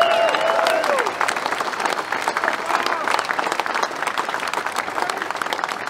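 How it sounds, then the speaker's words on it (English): A union rally crowd claps and cheers in sustained applause, a dense, loud wash of many hands that starts strong and carries on steadily, with a voice over it at the start. "So give yourselves a round of applause."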